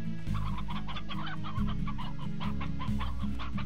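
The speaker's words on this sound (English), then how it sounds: "Oh, we got lots of chickens in here." Chickens clucking in the Slime Rancher video game, a steady chorus of repeated clucks from several birds over a low droning background.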